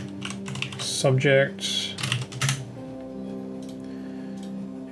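Quick bursts of keystrokes on a computer keyboard as a layer name is typed in Photoshop, clicking close and clear before and after a short stretch of talk.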